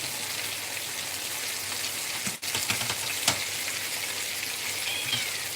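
Steady sizzling of veal kidneys frying in a pan, a dense crackling hiss with a few sharper pops and spatters, close up and continuous.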